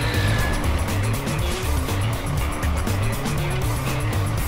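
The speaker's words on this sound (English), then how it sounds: "It is a concrete mixer truck." Concrete mixer truck engine in the Kids Vehicles iPad game: a loud, steady motor rumble with a slightly pulsing low drone, running continuously without a break and with no voices.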